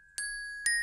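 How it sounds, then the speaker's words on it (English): An isolated tubular bell part from a Christmas song multitrack, struck twice in under a second: bright metallic strikes with clear, sustained ringing overtones, alone and clean. "let's have a listen to the first tubular bell"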